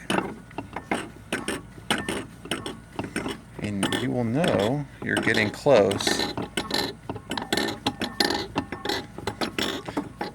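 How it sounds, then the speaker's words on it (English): On an OMC Cobra Volvo Penta SX sterndrive, a gimbal bearing removal tool clicks and rattles in quick metallic ratcheting bursts, close and steady, while someone speaks briefly over it. "You hear that rattling sound?"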